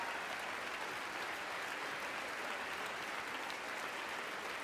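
Audience applause breaking out during a political speech, a dense, steady wash of clapping from a large crowd that holds at an even level throughout, with no speech over it.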